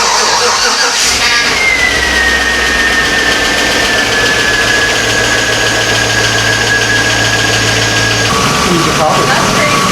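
A 2004 Chevy Avalanche's 5.3 V8 idles steadily while warming up, a continuous low rumble with a faint high whine running through it and a brief shift in tone near the end.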